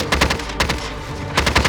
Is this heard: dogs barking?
no